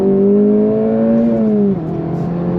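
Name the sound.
Acura Integra Type S engine revving while accelerating in second gear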